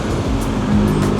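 Steady roadside traffic on a street in Canggu, Bali, a dense continuous engine rumble from passing vehicles, loud and close with no gaps.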